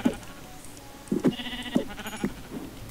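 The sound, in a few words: sheep bleating in Minecraft video game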